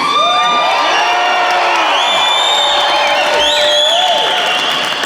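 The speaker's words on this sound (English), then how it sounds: "So let's get loud and scream for these guys." A packed Comic-Con crowd at a Weird Science 30th reunion panel cheers, whoops and screams loudly and without pause, with shrill whistles rising over the roar.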